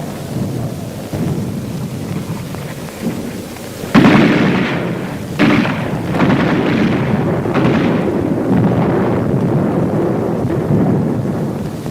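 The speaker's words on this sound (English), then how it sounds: "Mortar and artillery were deadly accurate by reason of excellent enemy observation from Mount Lunga" Heavy mortar and artillery explosions from a 1943 winter battle near San Pietro boom and rumble one after another, several sharp blasts rolling into a continuous thunderous din.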